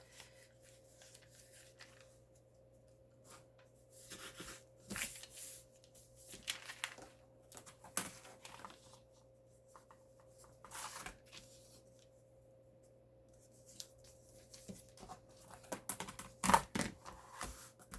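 Scissors cutting folded fabric for a quilt label: faint, quiet snips and rustles spread irregularly through a hushed room, growing a little louder toward the end.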